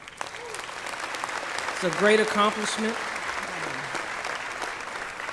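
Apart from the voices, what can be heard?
graduates applauding at commencement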